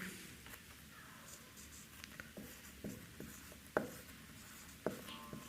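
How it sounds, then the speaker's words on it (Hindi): Writing a sentence on a board during a grammar lesson: faint scattered taps and scratchy strokes at irregular intervals over a soft room hiss, close but quiet, with no voice. "तो पहला वाक्य मैं यहाँ पर लिखता हूँ"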